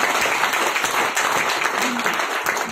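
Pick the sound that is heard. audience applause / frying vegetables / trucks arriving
audience applause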